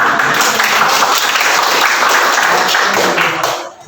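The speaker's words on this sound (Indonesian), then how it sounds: "kita berikan tepuk tangan dulu buat" A classroom of students applauding a group that has just finished presenting, steady loud dense clapping for several seconds before fading out abruptly at the end.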